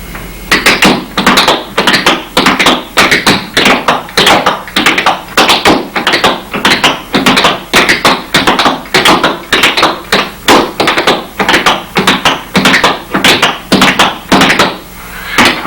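Flatfoot dance heel and toe taps on a wooden floor make loud, close, rhythmic thunks that repeat in an even, fast pattern without talking.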